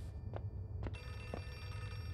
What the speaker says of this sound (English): I just mean the one that's got the ringing phone.